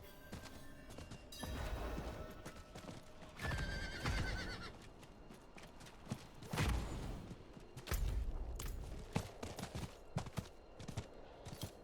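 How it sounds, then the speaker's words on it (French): A horse whinnies loudly among clattering hoofbeats in the video game Diablo 4, with bursts of galloping and scattered knocks and thuds, no talking. "J'ai le droit d'être à cheval, mais pas d'aller trop vite à cheval."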